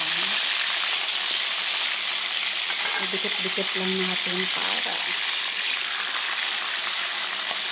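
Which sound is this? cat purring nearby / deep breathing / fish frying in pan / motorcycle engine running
fish frying in pan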